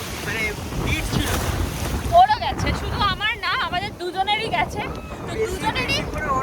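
Sea waves and gusty wind roll along the beach at Mandarmani, a steady rushing wash with wind buffeting the microphone, while people talk over it and birds chirp in the background.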